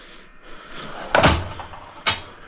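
A new Milwaukee tool cabinet drawer slides shut with a firm knock, followed by a second sharp thud a moment later, close and clear in a quiet workshop with no talking.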